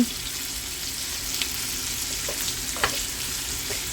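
Sausage frying in a pan for gravy, a steady close sizzle with a few light scrapes and taps as the meat is broken into crumbles.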